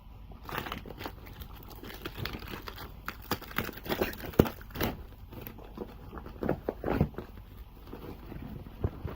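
A tarp being unwrapped and handled, giving irregular plastic crinkling and rustling bursts close to the microphone, with occasional sharper crackles and some wind buffeting, with no talk.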